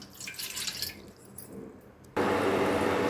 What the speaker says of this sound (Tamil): இப்போ ஒரு பவுலில் வச்சுட்டு ஒரு கிளாஸ் தண்ணி ஊற்றிக்கலாம்